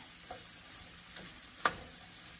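Onions frying in a pan while corn is being prepared, a soft steady sizzle with a few faint stirring clicks and one sharper tap of a utensil.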